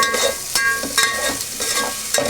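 Ginger garlic paste frying in oil with turmeric for a chicken curry, a close, fairly loud sizzle broken by sharp spoon-against-pan stirring knocks at irregular intervals, without any voices.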